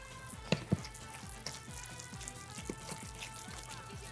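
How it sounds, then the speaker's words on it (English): Oily tapioca flour dough for pão de queijo being mixed, with soft wet squelching and slapping sounds, a couple of sharper knocks early on, faint and close with no talking. "I'm just gonna mix this until pretty much all the loose tapioca flour has been incorporated into the mix"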